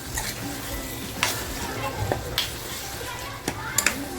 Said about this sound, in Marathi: मी आता छान फ्राय करते